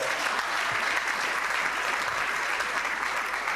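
A church congregation claps in sustained, dense applause, a steady wash of many hands heard throughout with no pauses.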